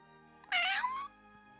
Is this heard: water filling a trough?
no